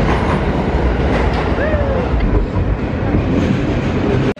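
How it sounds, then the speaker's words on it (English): A New York City subway train arrives at a station with a steady loud roar of wheels and rails, faint squeals rising above it, then it cuts off abruptly. "Oh, the train is coming."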